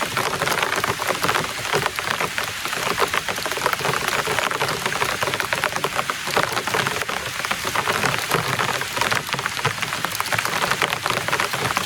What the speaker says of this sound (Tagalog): Kalakas na ulan.